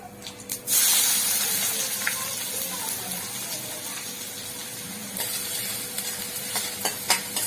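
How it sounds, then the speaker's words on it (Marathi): Whole spices hitting hot oil for a tempering, with a sudden loud burst of sizzling spatter that settles into a steady hiss, broken by a few stirring clicks, and faint talking nearby. "खडा मसाल्याची फोडणी दिलेली आपण"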